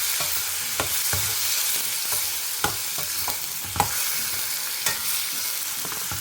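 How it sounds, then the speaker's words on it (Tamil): Thinly sliced brinjal sautés in a pan. A constant, loud sizzle carries on while a ladle stirs, giving repeated sharp scrapes and clacks at uneven intervals, close up. No one talks. "இது கொஞ்சம் வதங்கட்டும்."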